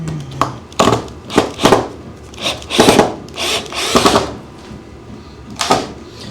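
A power drill drives screws into a wooden soap box car, sounding as a series of short, loud whirring bursts with brief pauses between them, close up and with no speech.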